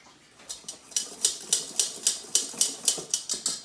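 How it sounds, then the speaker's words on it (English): Dry biscuit ingredients stirred in a bowl, a run of about a dozen quick, evenly spaced scraping strokes, close and fairly loud, with no voices. "let's mix this up the dry first before we start adding the wet"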